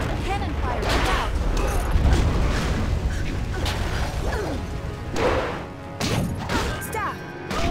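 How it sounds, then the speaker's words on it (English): Cannon fire and combat crashes in the video game Jade Empire: heavy booming impacts and smashing blasts repeat amid whooshes, with voices shouting over the din. "Cannon fire, look out!"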